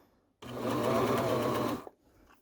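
A serger stitches seams in fabric for a cloned galaxy skirt, giving one close, steady mechanical whir of about a second and a half. Silence comes before and after, with a small click as it stops.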